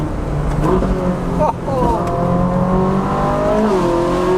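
A 2013 Ferrari 458 Spider with its 7-speed dual-clutch gearbox driven hard through tight corners, engine note sweeping up and down through quick gear changes, loud and continuous from inside the car with a voice talking over it.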